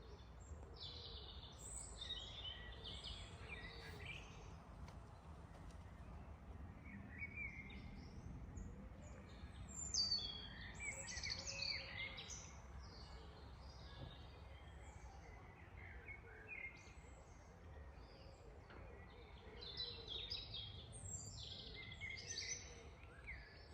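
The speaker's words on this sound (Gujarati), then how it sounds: "પક્ષીનો અવાજ સાંભળો" Faint birdsong drifts through a quiet village morning after rain, with scattered chirps and calls repeating over a soft steady background hush.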